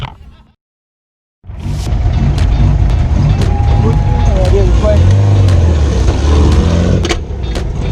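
A car carries people over to a Volkswagen rally in Austin, Texas, its steady engine and road rumble filling the cabin after a brief silence, heard from inside, with occasional small knocks and clicks.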